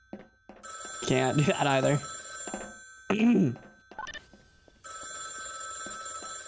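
A telephone rings in a GMod horror game, with a steady electronic trill at the start and again near the end, clear and close. A voice speaks in the middle.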